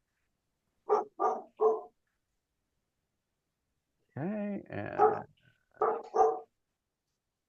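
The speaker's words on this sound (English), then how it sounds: "Could we mute whoever's dog is barking?" A dog barks over an online meeting: a quick burst of three barks, then a longer run of strained, yelping barks with a brief pause, close and loud, with a few words spoken in between.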